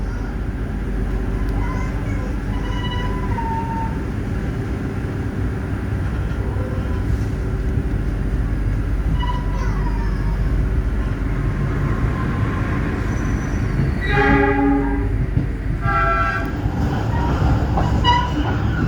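Economy passenger train rolling between Jatinegara and Bekasi while a KRL Sifang commuter train bound for Bekasi overtakes it: a steady low rumble of wheels on rails, then rising screeches and clatter as the other train passes close by.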